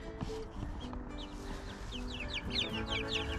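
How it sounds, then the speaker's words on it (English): Young chicks kept outdoors in a raised bed under plastic fencing peep in rapid high chirps, overlapping and fairly close, with some lower clucking and background noise throughout. "But first, I'm going to show you my chicks."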